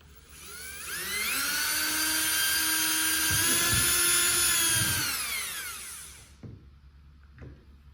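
A high-pitched power drill drilling a hole in a kayak whines steadily for about six seconds, rising and then winding down, followed by a couple of faint knocks.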